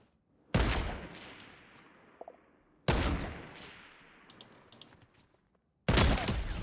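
Sniper rifle shots in a first-person shooter video game, three sharp loud blasts spaced a few seconds apart, each with a long decaying echo tail.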